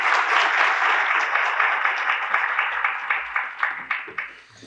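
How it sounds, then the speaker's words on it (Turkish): An audience at an academic panel on the path to the Republic claps to welcome the moderator to the stage, thick applause that breaks into distinct individual claps and tapers off. "son olarak panelimizin moderatörlüğünü yapmak üzere Türkiye Cumhuriyeti Tarihi Anabilim Dalı Başkanı Sayın Profesör Doktor Mehmet Karayaman'ı alkışlarınızla sahneye davet ediyorum"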